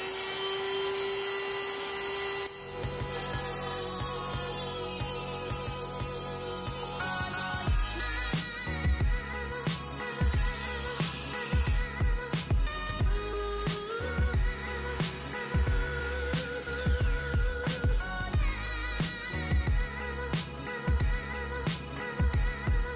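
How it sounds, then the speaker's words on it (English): A Dremel or angle grinder cuts through a car's rusted rocker panel metal, a loud high whine that keeps shifting pitch across several passes and stops, with gaps and clanks between cuts. "I'm gonna just get I guess my Dremel tool or my angle grinder and see if I could cut it with that."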